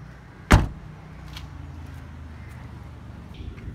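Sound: Volkswagen Vento 2014 boot lid being closed

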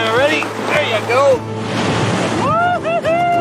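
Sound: ocean waves at the beach

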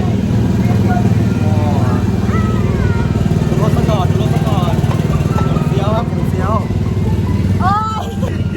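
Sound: convertible car driving in Paris

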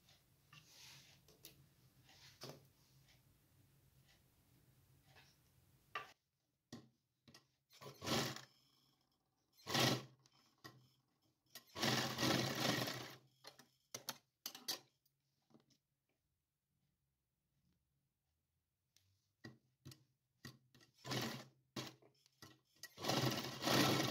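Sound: sewing machine stitching side seams of a doll's winter night pants

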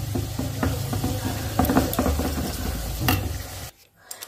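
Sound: potatoes frying in a pan

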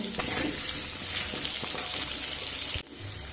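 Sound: potato and papaya frying with turmeric and salt

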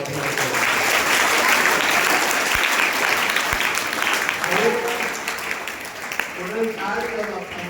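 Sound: applause for students at a speech competition

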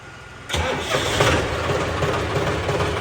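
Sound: tractor engine starting and idling

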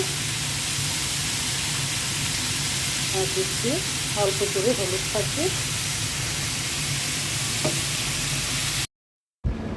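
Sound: pumpkin pieces sizzling as they fry in hot oil with cumin

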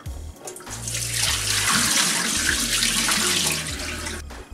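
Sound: rice being washed under running tap water

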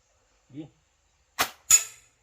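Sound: slingshot being shot at targets

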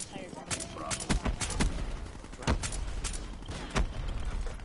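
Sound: Dracon sniper rifle gunshots in a video game

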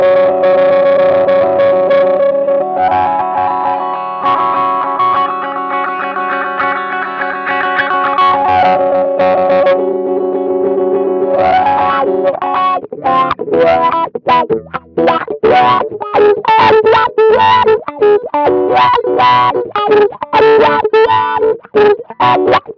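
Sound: guitar through Mission Engineering Rewah Pro pedal saturating in mid frequencies

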